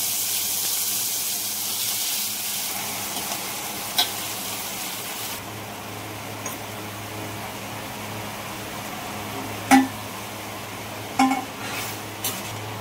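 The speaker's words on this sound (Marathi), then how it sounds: "आता मी सुरमई मासा आहे ना तो मसाल्यात मिक्स केलाय, फोडणीला देते." Surmai fish coated in masala sizzles and fries in hot tempering of reddened garlic, a loud hiss at first that settles into steady frying, with a few metal clinks of a spoon against the pan.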